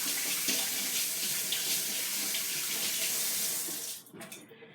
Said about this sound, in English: So hold on a second while I wash my finger off.